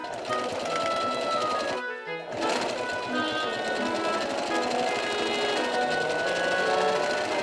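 A sewing machine runs steadily while stitching the top layer of a skirt for a maid of honor dress, with one short pause in the middle before the motor resumes.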